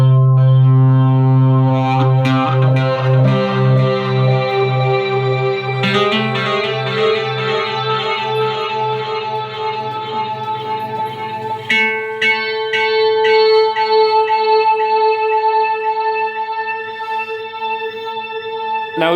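Electric guitar through a wah pedal with distortion, chorus and delay, sustained chords and ringing notes whose tone sweeps and shifts, loud and continuous with no talking.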